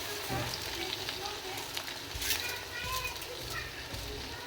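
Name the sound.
polao rice poured into hot pot, sizzling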